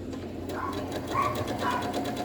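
A sewing machine stitches quilt fabric for a labyrinth quilt, its motor running in a steady close hum with faint rhythmic clatter that swells slightly in brief bursts.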